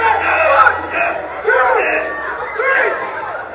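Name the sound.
wrestling crowd voicing disapproval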